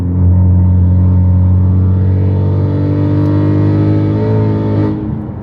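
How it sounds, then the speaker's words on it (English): BMW F8X with valvetronic exhaust revving up from about 2,000 RPM, a loud sustained raspy drone that climbs steadily in pitch for several seconds, then cuts off and fades at the end. "if I press the gas, you'll hear the rasp"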